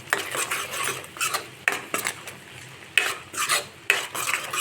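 Garam masala being stirred into a boiling dhaba-style lasooni methi (fenugreek and garlic) curry: repeated close scraping and sloshing spoon strokes against the pot in an uneven rhythm, with no talking.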